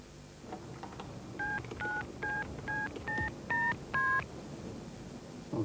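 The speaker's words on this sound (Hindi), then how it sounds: "विवेक फौरन अनीता का फोन लगाओ।" Touch-tone telephone keypad dialing: seven short, evenly spaced dual-tone beeps in quick succession over a low background hum, fairly clear and close, with no talking.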